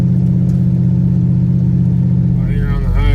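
A Chevrolet C10 truck with a swapped small-block V8, loud exhaust and a carburetor running poorly drones steadily and loudly while driving; a voice cuts in briefly near the end.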